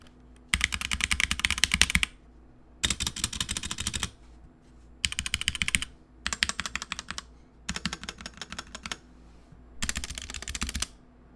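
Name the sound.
mechanical keyboard typing, clicky switches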